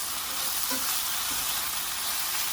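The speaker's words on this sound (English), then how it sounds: "I'm just going to use a spatula to kind of release these all off the bottom of the pan and scrape up those lovely brown bits" Browned steak bits in a hot pan for pepper steak, a loud, steady sizzle with a few faint scrapes of a spatula against the pan bottom.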